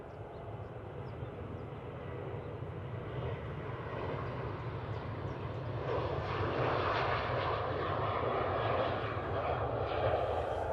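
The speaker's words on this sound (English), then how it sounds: "deep departure, that, for a 737" A Boeing 737 departing Manchester Airport on a steep climb, with a jet engine roar that starts as a low rumble and builds louder and brighter partway through, then holds steady to the end.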